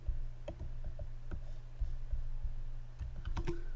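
Quick irregular keystrokes on a computer keyboard typing a command, crisp close clicks with brief pauses and a small burst near the end, over a low steady hum.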